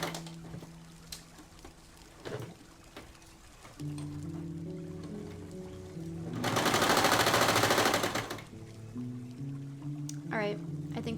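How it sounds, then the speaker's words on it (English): A serger sewing machine whirs in a rapid, dense burst for a couple of seconds between quieter stretches of steady hum and light clicks, fairly close, with talk likely around it. "I think the serger is done for tonight."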